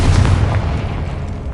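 The Confringo blasting spell explodes in the Hogwarts Legacy video game, a loud, booming burst with a deep rumble that carries through the whole moment. No one talks.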